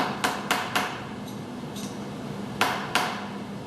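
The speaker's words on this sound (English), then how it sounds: "take your dead blow hammer, tap it around, make sure your parallels don't move" Sharp, clean taps from a dead blow hammer striking a workpiece clamped on parallels in a machine vise, about six knocks in irregular pairs over a steady shop hum.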